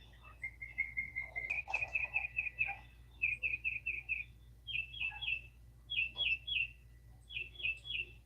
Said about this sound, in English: doing the nature channel, just the bird sounds